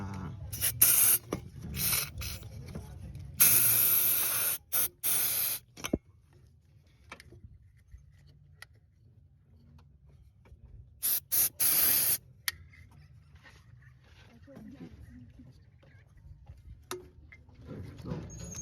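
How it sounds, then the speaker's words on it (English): Carburetor cleaner sprayed from an aerosol can onto a throttle body, several short loud hissing bursts, one longer blast, with quiet workshop ticks and handling noises in the gaps. "spray the spray maybe feel in the"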